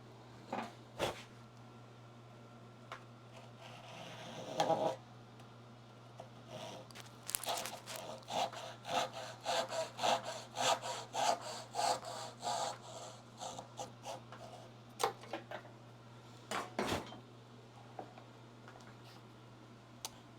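A hand saw cuts wood for a Moxon vise used in hand-cut dovetail joinery, giving a quiet run of rhythmic back-and-forth strokes over a steady low hum, with a few sharp knocks.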